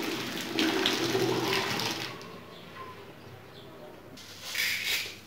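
Boiling water is poured slowly down a sink drain, a soft splashing gush that swells, fades to a quiet trickle and rises briefly again near the end, with a voice talking faintly.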